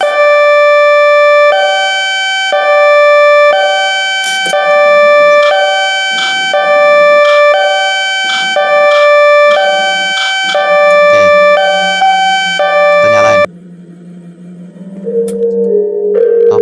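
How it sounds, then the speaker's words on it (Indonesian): A loud electronic railway level crossing bell in a game map rings in steady repeated two-tone pulses, about one per second, then cuts off, leaving quieter sounds. "kita coba nyalakan sirine ya men ya"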